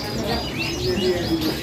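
Several birds chirp and tweet in quick, overlapping calls at a bird market, with a busy crowd murmur and a few low coos underneath.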